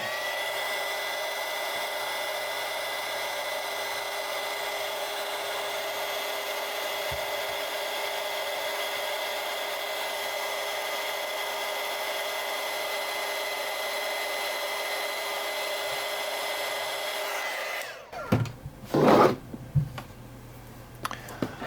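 Heat gun blowing steadily on heat shrink tubing while building a wire antenna, a constant whirring fan hum for about eighteen seconds, then it cuts off and a few handling clicks and knocks follow.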